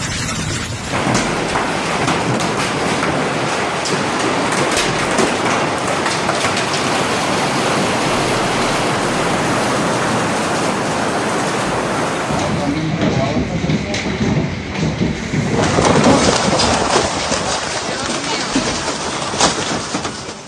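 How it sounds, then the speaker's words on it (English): Tennis-ball-sized hailstones pound down during a severe storm with strong winds in Sabinas and Nueva Rosita, Mexico: a loud, dense, continuous roar of impacts that lasts about twenty seconds and shifts in tone partway through. "hailstones falling at high speeds from the sky"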